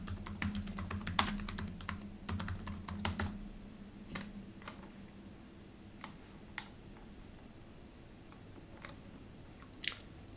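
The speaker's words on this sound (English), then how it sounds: "Shouldn't try to talk and type at the same time." Keystrokes on a computer keyboard rattle in quick bursts at first, then thin out to a few scattered taps, close up and fairly quiet against a faint background hum, with no talk.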